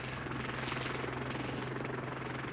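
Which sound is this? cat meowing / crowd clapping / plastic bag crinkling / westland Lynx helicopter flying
westland Lynx helicopter flying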